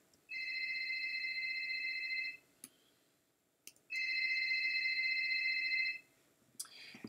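Cell phone ringing sound cue played back in QLab, two bursts of an electronic trilling ring separated by a short pause, clear and alone.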